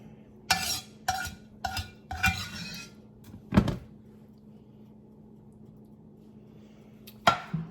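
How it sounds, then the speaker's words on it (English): Several short metal scrapes of a spoon or spatula against a pan as chicken pot pie filling is scraped out, coming in quick bursts and then a long pause before one more scrape near the end. "I don't want any of this filling to go to waste, so I'm gonna definitely try to scrape out all of it."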